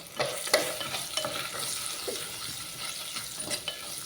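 Cut carrots and green chilli frying in hot oil for a moong dal soup give off a steady, close hiss with occasional scraping and stirring, and no voices.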